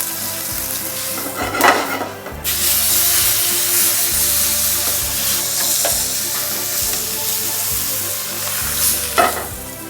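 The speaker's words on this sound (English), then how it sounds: "We're going to get a nice sear on the steak, give it coloration, Maillard reaction to bring out those deep, meaty, caramelly flavors." Steak sears in a hot frying pan with a dense, steady sizzle, broken by a few louder bursts of spatter and scraping as it is moved, heard close and without talk.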